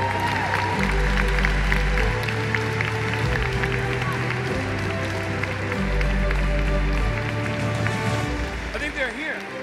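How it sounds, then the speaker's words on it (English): An audience at the 2019 Champions of the Earth award show applauds the winners, sustained dense clapping over a rhythmic low musical thump, with a voice heard over the crowd. "Let's have another round of applause for the 2019 Champions of the Earth."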